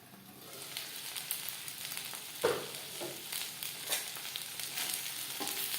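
Pointed gourd (potol) fries in oil with a continuous soft sizzle and crackle, joined by occasional stirring scrapes and one sharper knock.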